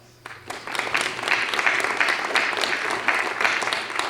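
Applause for parents, educators and volunteers at a county Academic Decathlon event, a room of people clapping steadily for a few seconds before it cuts off.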